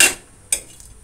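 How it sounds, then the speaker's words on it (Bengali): Whole cinnamon and bay leaves fried in a pan for a village mutton rezala, with a sharp sizzling hiss at the start, a second brief crackle, then faint ticking. "দারচিনি, তেজপাতাটা একটু ভেজে নেব"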